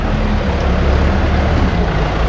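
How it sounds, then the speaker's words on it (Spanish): A tractor working in an olive plantation on the hillsides, heard as a steady, continuous engine drone with rumbling low end and broadband noise, fairly loud and unbroken, with no voices present. "Por allá un tractor."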